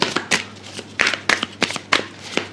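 Tarot cards shuffled by hand in a series of quick, crisp riffling bursts, about eight clustered slaps and flutters close to the mic with brief pauses between them, and no talking over it.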